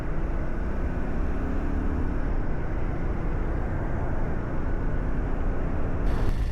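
A Harley-Davidson motorcycle engine rumbles steadily nearby, a dense, low, continuous drone with no clear revs or breaks.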